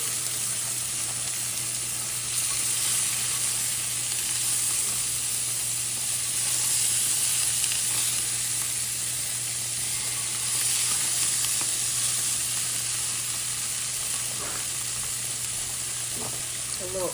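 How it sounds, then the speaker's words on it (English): Italian sausages frying in a pan for sausage, peppers and onions, giving a loud, continuous close sizzle and hiss that holds steady throughout, with occasional stirring sounds and no talking. "We're gonna add the Italian, Italian sausages."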